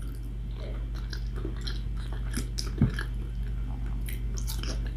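Close-up chewing and biting of a healthy breakfast during a Filipino mukbang, soft wet crunches and mouth sounds over a constant low hum, with one louder bite near the middle.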